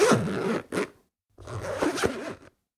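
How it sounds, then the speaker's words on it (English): A clothing zipper pulled up and then down, two rasping bursts separated by a short silence, close and distinct with nothing else around. "a zipper going up and down"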